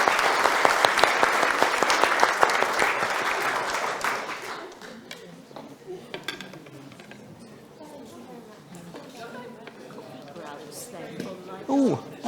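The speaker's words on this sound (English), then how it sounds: "Can we just give them a round of applause as well?" Audience applause for festival organisers at a gardening science event, loud, dense clapping for about four seconds that dies away into murmuring crowd chatter, with a voice heard near the end.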